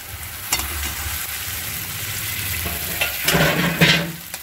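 Fried potatoes stirred with spices in a pan for a spicy chicken curry, a loud continuous sizzle broken by scraping stirring strokes, with sharper bursts of frying toward the end.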